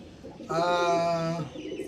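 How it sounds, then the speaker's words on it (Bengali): Pigeons coo in a clear, rounded run lasting about a second, close by, after a moment of low background murmur and followed by quieter room noise. "তো দেখিয়ে দিচ্ছি আগের দুজোড়া পায়রা ছিল আমার কাছে"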